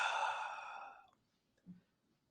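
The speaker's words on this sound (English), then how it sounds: "now deep breath in and deep breath out" A single deep breath drawn and released during a guided relaxation in a psychology lecture: a fairly close, airy exhale that fades out within about a second, then near silence with one faint soft bump.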